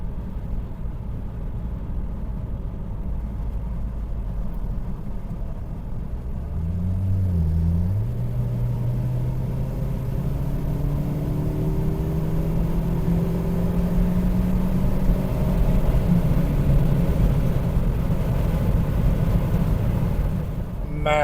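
A Saab 9-5 Aero with a stage 1 tune pulls hard under acceleration, its engine note rising steadily in pitch as the revs climb, a loud continuous rumble heard from inside the car with brief shifts along the way.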